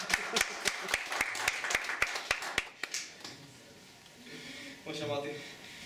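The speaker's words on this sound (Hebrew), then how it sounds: "אני מחיא עוד כפיים לגברת" Crisp, evenly spaced handclaps ring out on a theatre stage during a comic magician sketch, then fade into voices talking.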